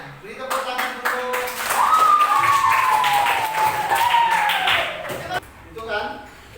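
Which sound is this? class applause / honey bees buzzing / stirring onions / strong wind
class applause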